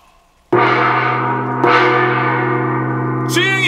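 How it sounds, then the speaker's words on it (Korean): A single war gong stroke signaling an army to halt its advance rings out loud and close, its deep shimmering tone sustaining and slowly fading. "징소리가 한 번 울렸다!"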